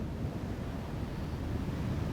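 Ocean waves breaking on a California beach, a continuous soft roar of surf with a gentle rising and falling wash, moderately quiet and steady with no voices.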